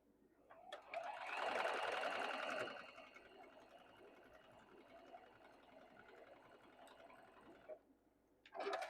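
A sewing machine stitches a seam on a quilt block, a fairly quiet continuous whir that swells at the start and runs about seven seconds before stopping, with faint background sounds.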